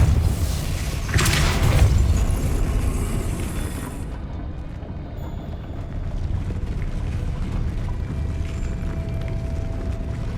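A Depulso force spell cast in the video game Hogwarts Legacy: a loud, close whooshing burst with a booming low thump that fades into a lingering rumbling ambience.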